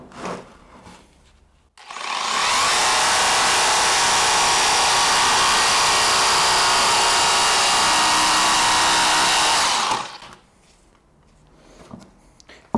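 A cordless Bosch jigsaw fitted with a Pro decking blade cuts steadily for about eight seconds, a loud, continuous buzzing whine that starts abruptly, holds level, then stops, with quieter handling noise before and after.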